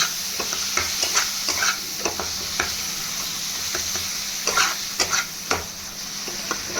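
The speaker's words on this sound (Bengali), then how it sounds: "জিরে গুঁড়ো সব দিয়ে দেবো, দিয়ে ভালো করে কষবো।" Ground turmeric and cumin frying and being stirred in a pan for a fish-head curry, with a constant close sizzle and repeated scraping strokes of the stirring spoon.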